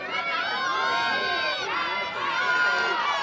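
Dense crowd murmur and chatter fill the stands at a women's college softball game between Oklahoma State and Kansas, a steady loud wash of many voices with scattered shouts throughout.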